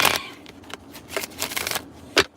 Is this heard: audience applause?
no